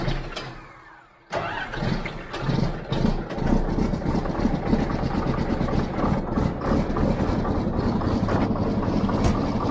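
Farm vehicle parked under a barn roof on a cattle farm starts with a sudden burst and settles into a steady, loud, rumbling idle that continues without talk.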